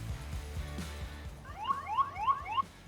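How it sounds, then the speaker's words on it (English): Anti-theft alarm on an ENGWE L20 3.0 folding e-bike sounds a series of four rising electronic chirps, loud and close, following some low thumping. "Alarm goes off."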